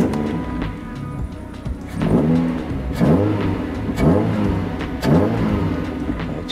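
Mazda Roadster NB6C with a Maxim exhaust manifold and six-speed swap, its engine idling and then blipped in repeated sharp revs, about four throttle pulses rising and falling, loud and close with no talking.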